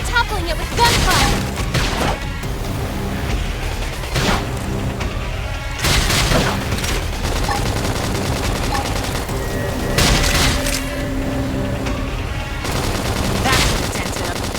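Gunfire in Xenoblade Chronicles X Definitive Edition, with loud bursts of rapid shots and booming impacts recurring every few seconds over dense game combat noise.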